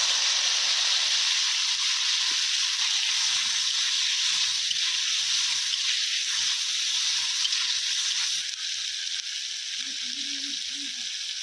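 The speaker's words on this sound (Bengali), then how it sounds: "এরপর পেঁয়াজ টমেটো দিয়ে দেব" Onion and tomato frying in a hot kadai after spices were tempered in oil for a Bengali village-style dish, a steady loud sizzle and hiss that carries on throughout, easing slightly toward the end.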